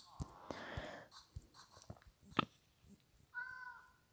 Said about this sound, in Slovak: Mačka tam je.